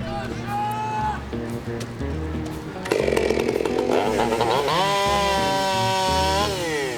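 A chainsaw cuts the end off a suspended log during a lumberjack competition at a lumber jubilee, its loud, steady engine whine running continuously and rising in pitch near the end amid outdoor crowd noise.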